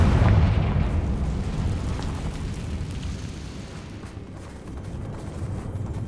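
Confringo fire blast spell cast in Hogwarts Legacy, a loud booming blast that opens the clip and rolls into a long, rumbling, slowly fading roar.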